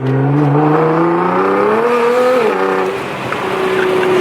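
A Nissan GT-R fitted with an Armytrix exhaust accelerates in a short, loud pull, the engine note rising steadily, dipping at a shift, then settling, heard up close with a brief tire squeal.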